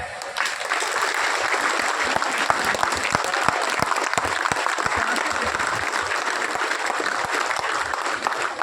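Loud, dense applause from a standing crowd at a farmers' conference in honour of the farmers, continuous and even for over eight seconds with sharp individual claps cutting through.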